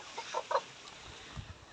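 Laying hens on an egg farm give a few soft, low clucks in quick succession, fairly faint against a background hum of the shed.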